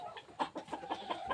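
An aggressive farmyard rooster clucks in a quick run of about six short, evenly spaced calls, close by and fairly loud, with nothing else heard.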